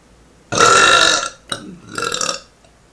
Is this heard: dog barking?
no